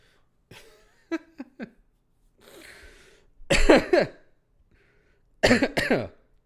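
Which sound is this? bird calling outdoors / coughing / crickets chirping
coughing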